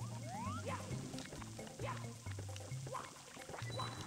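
Rising water in Super Mario 64, heard as bubbly, splashing liquid swells under steady game music, with several soft surges through the passage.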